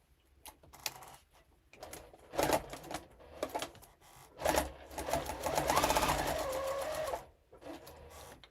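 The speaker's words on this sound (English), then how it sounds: "Now I'm going to sew it on." A sewing machine stitches fabric in short bursts of rapid mechanical chatter separated by pauses, then runs in a longer, steadier stretch, fairly close and moderately quiet.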